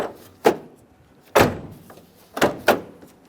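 A rear interior door handle on a 1999-2006 Chevrolet Silverado 1500 is pulled repeatedly during testing, giving four sharp latch clunks at uneven intervals, close and clear with quiet between them.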